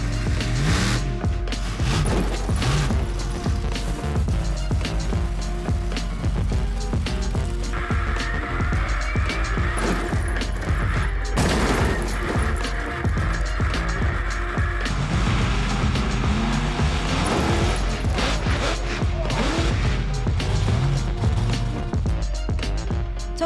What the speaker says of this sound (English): So who's ready to crush some cars?